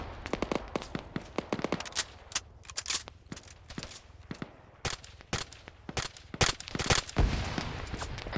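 Rapid bursts of automatic gunfire from a military video game, with sharp cracks and sustained rattling volleys of varying loudness throughout, some shots close and punchy, others more distant.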